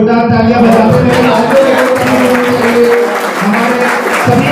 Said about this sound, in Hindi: जोरदार तालियां बजाते हुए